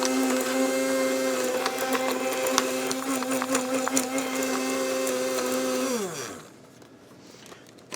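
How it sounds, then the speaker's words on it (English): A small electric grinder pulverizes dried mushrooms into powder with a steady, close whirring hum that winds down and stops near the end, leaving quiet. "Now that I've finished grinding all my mushrooms"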